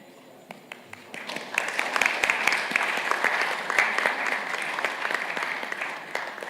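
An audience at an African higher education conference breaks into applause, starting quietly with scattered claps and swelling into steady, sustained clapping from a large crowd filling the hall.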